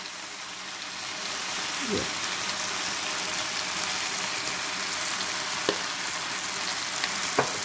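Oil sizzling over a chicken and vegetable stir fry, a dense, even hiss that holds steady near the mic, with a few light clinks and scrapes scattered through.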